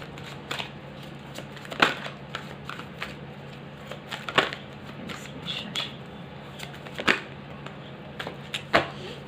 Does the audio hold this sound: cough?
no